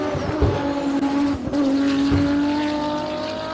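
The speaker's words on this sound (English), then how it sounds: "You can also hear Franco feathering the throttle all the time." Hill climb race car at a King of the Hill event, engine note rising and dipping as the driver constantly feathers the throttle, loud and close with brief skittish bursts and no talk.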